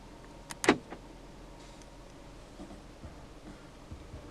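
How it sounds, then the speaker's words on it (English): The electronic central locking on a 2014 Audi A3 Sportback 1.4 TFSI gives a single sharp, close mechanical clunk, followed by quiet cabin ambience. "Electronic central locking."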